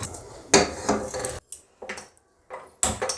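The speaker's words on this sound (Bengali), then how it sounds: "আমি গ্যাসটা জেলে কড়াইটা বসিয়ে দিলাম" A metal kadai is set on a lit gas stove in a home kitchen, making a few separate clunks and scrapes of metal with short quiet gaps between them.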